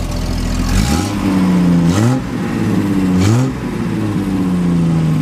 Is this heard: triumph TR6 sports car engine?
yes